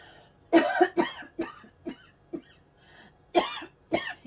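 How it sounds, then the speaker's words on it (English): A run of harsh, throaty coughs, close and loud, in uneven bursts with short pauses between them and no talking. "excuse me, I'm going to cough,"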